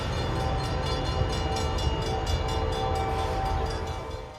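A train rumbles loudly past at close range toward a truck stuck on the tracks, with steady rhythmic clatter over the rails and a sustained tonal hum; no clear impact is heard.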